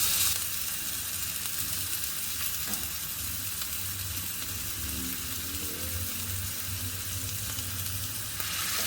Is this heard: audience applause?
no